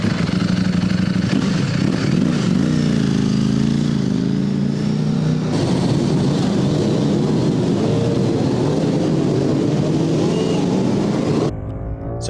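A Ducati Streetfighter V4S sport motorcycle on a track-day circuit, its engine a loud, sustained roar with rising and falling revs as it accelerates and shifts, continuous and close, cutting off sharply near the end.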